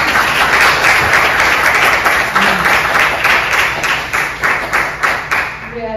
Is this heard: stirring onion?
no